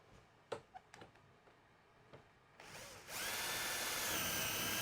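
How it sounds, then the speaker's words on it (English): A power drill with a self-centering drill bit starts after a few light taps and clicks, then whirs loudly and steadily at close range. "these are a self-centering drill"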